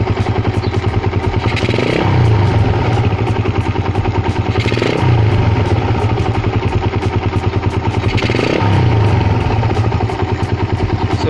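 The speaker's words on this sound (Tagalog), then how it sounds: "nadidelay yung response ng ating carb kapag pinihit natin yung throttle" Raider 150 pit bike fitted with a 28mm flat slide carburetor revs in three repeated throttle blips, each rising from a loud, chattering idle and falling back, close by and with no voices.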